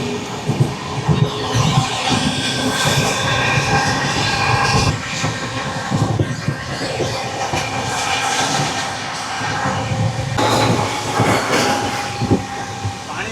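A nearly empty Bengaluru special train, running hours late, rolls along the rails with a steady heavy rumble and recurring clickety-clack of wheels over joints, loud and close throughout, with a brief squeal near the end.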